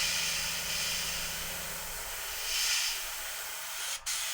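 An airbrush at high air pressure sprays paint mixed with flake, giving a steady close hiss that swells briefly midway and cuts off for a moment near the end.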